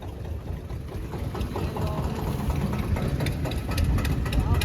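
A harvesting machine engine idles steadily during the wheat harvest with a low rumbling drone and faint rhythmic knocking, growing slightly louder toward the end.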